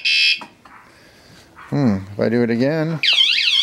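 A loud, piercing electronic anti-theft alarm on a Lectric XP 2.0 electric bike, a Wsdcam bike alarm, warbles and sweeps in pitch, sounding in bursts with a person briefly speaking between them.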